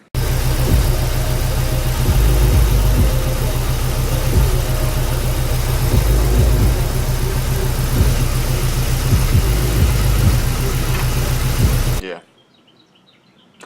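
A damaged, blown engine in a 1998 Ford Mustang Mach 1 runs steadily and loudly at idle with a rough, uneven knocking rhythm, then cuts off abruptly near the end.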